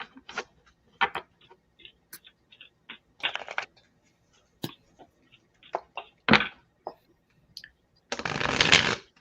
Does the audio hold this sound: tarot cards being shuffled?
yes